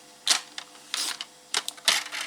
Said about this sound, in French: Donc là je me sers de mon massicot.